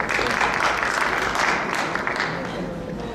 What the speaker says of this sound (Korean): 자, 초청해서 박수로 초청하도록 하겠습니다